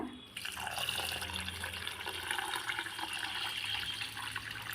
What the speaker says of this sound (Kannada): ಬೇರೆ ನೀರನ್ನು ಹಾಕೋಣ